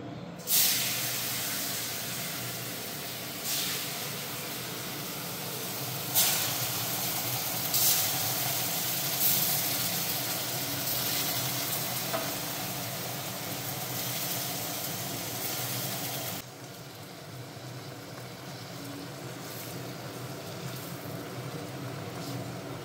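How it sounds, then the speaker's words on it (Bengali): Paneer pieces frying in hot butter in a pan give a steady broadband sizzle and hiss throughout, with occasional louder crackling bursts, close and continuous. "আর এই যে বাটারটা একদম গরম হয়ে গেছে, এখন আমি পনিরগুলো ভেজে নেব"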